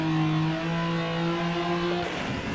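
Car engine in the racing game Rennsport revving at a steady high pitch with strong harmonic tones, holding for about two seconds before dropping off into a rougher, lower rumble.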